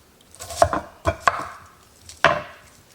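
An onion quartered on a cutting board with a knife: four crisp, close chops at uneven intervals, each a sharp knock against the board, with quiet gaps between.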